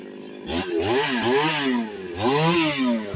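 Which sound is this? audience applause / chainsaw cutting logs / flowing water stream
chainsaw cutting logs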